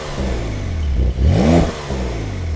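A 2022 Porsche 911 Carrera S with its rear-mounted engine idling, then giving one sharp, loud rev that climbs and drops quickly before settling back to a steady idle, close by.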